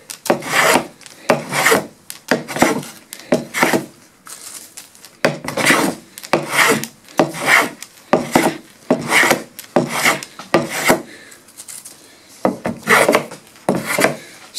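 Hand plane shaving wood inlays on a mission-style secretary, with loud rhythmic rasping strokes repeating close up, each stroke a short scraping burst separated by brief pauses.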